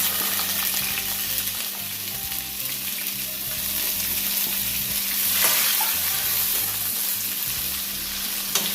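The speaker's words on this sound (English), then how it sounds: "I'm going to saute these until they're nice and tender" Fresh seasonings sauté in melted coconut oil in a pot, a dense continuous sizzle with faint stirring and crackle, close and steady throughout without any speech.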